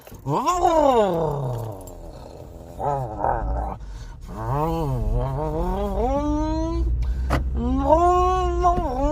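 A voice mimics a car engine starting up, with rising and falling groaning vocal sweeps repeated in several bursts, loud and close, with short pauses between.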